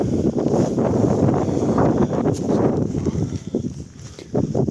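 Strong gusting wind buffets the microphone on Helgafell mountain in harsh weather, a loud continuous low roar that swells and dips throughout with no voices.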